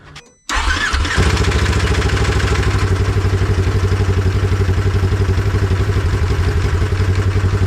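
A 2015 Polaris RZR XP1K with freshly replaced clutches cranks briefly, then catches and settles into a loud, steady, rhythmic idle close by, with no voices.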